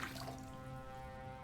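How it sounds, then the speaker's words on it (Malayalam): Water running into a wash basin in the horror game Metel, with a faint, steady stream and light dripping that stays even across the short stretch. "വെള്ളം നിറയുന്നില്ലല്ലോ. നിറഞ്ഞു."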